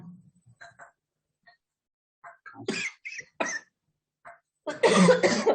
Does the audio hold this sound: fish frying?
no